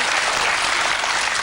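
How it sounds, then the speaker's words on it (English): Studio audience applause during a television chat show, a steady dense wash of clapping filling the whole stretch, loud and close with no talk over it. "Usually gets a round of applause for some reason."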